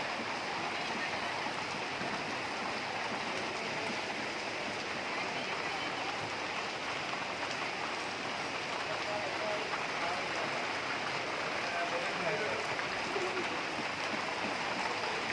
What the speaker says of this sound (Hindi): आज एक बार फिर कटरा माता वैष्णो देवी में बारिश होती हुई